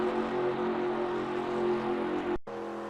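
NASCAR race car engine at Daytona International Speedway in NASCAR Racing 2002 Season, a steady loud droning hum with a brief dropout near the end before resuming.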